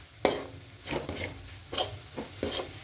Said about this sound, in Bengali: এবার পাউডার দুধ দিয়ে খুব ভালো করে মিশিয়ে নেব।